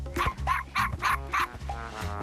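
An animated mockingbird imitates a barking dog, giving about five quick, evenly spaced yapping barks, close and clear against a soft background.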